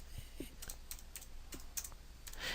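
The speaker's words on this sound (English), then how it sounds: "you can type in some search terms" Search terms typed on a computer keyboard: a handful of light, irregular key clicks, close and fairly quiet, over a low steady room hum with no talking.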